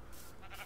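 A sheep bleats once, short and faint, in the blocky survival game Terrafirmacraft, with no voice over it.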